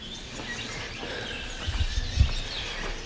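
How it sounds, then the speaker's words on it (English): Birds chirp faintly in a dark, enclosed spot, with thin, sparse calls over a low, steady background hum and a few soft low thumps, with no talk. "You hear the birds."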